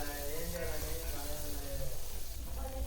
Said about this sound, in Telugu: ఆనియన్స్ గోల్డెన్ కలర్ వచ్చేంత వరకు బాగా వేయించుకోవాలండి.